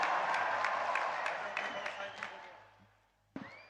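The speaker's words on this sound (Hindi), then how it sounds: "आइए तालियों के साथ इस भव्य प्रस्तुति का स्वागत करें" Audience applause greets a Bagurumba dance performance at a 65th annual gathering, a dense, steady patter of many hands that fades away, mixed with crowd noise and an amplified voice.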